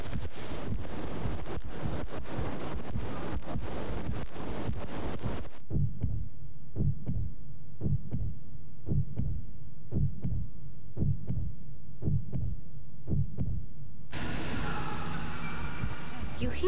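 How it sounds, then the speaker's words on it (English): A slow, regular heartbeat thumps alone for several seconds, low and steady, between louder stretches of wind-like noise in a reportedly haunted house. "You hear a heartbeat. Listen to it."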